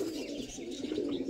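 Several pigeons coo steadily in a home loft where birds are kept for sale, their low, rolling calls overlapping continuously at close range, with a few faint chirps mixed in.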